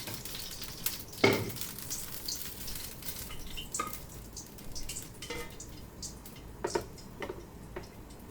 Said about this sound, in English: we're going to splash that oil over the ginger just to awaken its flavors